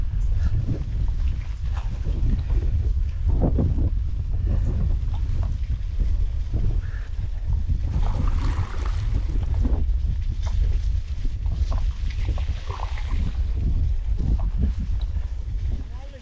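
Steady wind buffets the microphone in a constant low rumble during a bike ride by marshes, with voices talking faintly underneath throughout.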